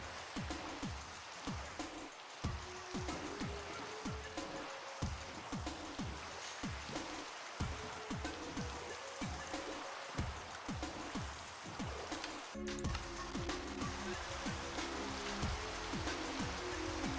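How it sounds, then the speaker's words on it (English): Steady rain pattering in the Minecraft video game, soft and continuous, with a faint rhythmic undertone and a denser, brighter stretch near the end, with no talking. "Oh good, it's raining."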